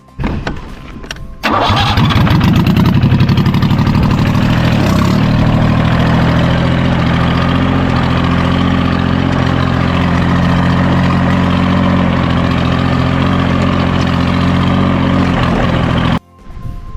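A tractor engine turns over and settles into a loud, steady low rumble close by, running continuously for about fifteen seconds before cutting off abruptly near the end.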